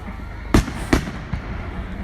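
Two sharp, loud fireworks bangs close together at an outdoor Bonfire Night display, followed by a fainter third pop over a low background hum.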